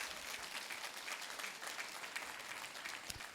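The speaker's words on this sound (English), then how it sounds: "So let's give them a very, very big round of applause." Steady applause from a graduation ceremony audience, fairly distant and sustained, a dense wash of clapping with no voices over it.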